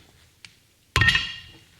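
A dead blow hammer gives a single solid knock on a part of a Kawasaki STX-15F jet ski oil cooler, with a faint tap just before it and a brief ringing decay after.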